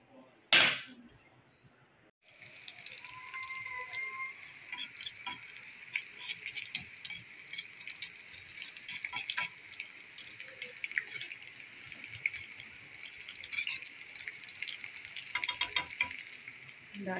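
Tempering for dal, with green and red chillies, cumin, onion and curry leaves frying in hot oil, sizzles loudly after a sharp clatter at the start and keeps crackling and spitting steadily close by, with no talk over it.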